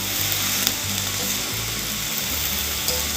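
Radish leaves frying and being stirred in a kadai, a steady close sizzle with scraping stir strokes, alone without talk.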